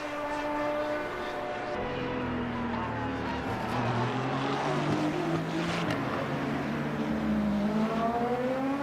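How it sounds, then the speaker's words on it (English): A race car revs through its gears in the endurance racing sim Le Mans Ultimate, a steady loud engine drone with rising and falling pitch sweeps marking upshifts, heard continuously with no voices. "Oh man, that gear change. That upshift sound."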